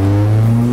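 A car engine in a Peugeot 205 runs loud and steady at high revs, a strong sustained drone with no break across the short moment and no voices over it.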